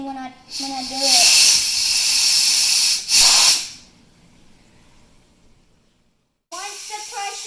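A pressure cooker vents steam while making chicken stock in a home kitchen, two loud hissing bursts separated by a short gap, with a voice and giggling before and after.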